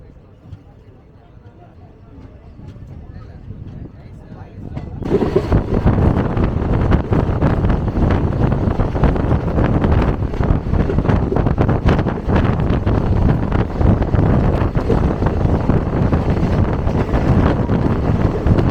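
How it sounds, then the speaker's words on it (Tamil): Strong wind roars steadily against the microphone on a moving passenger train, after a quieter opening, loud broadband rushing that persists throughout. "காத்து எப்படி அடிக்குது பாருங்க."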